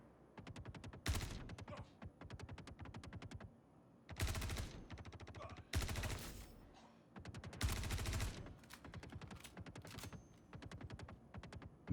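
Rapid automatic gunfire in the video game Star Citizen, several bursts of fast repeated shots separated by short pauses, crisp and fairly loud.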